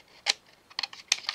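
Scissors snipping paper while making a photo folio pocket: three or four crisp, close cuts spaced a fraction of a second apart, with no voice.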